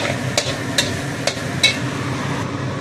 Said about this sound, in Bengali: দেখো চালটা ভালো করে ভেজে নিচ্ছি তেলের মধ্যে।